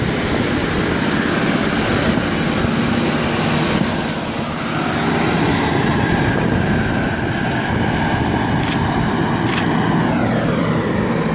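Train N12 pulling away from Douglas Park station, a steady loud rumble of wheels and engine that holds throughout, with a faint rising whine near the end.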